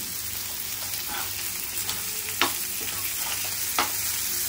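Rava-coated Bombay duck fish fry steadily in hot oil in a pan, a close, continuous crackling sizzle broken by a few sharp scrapes and clunks as the pieces are flipped.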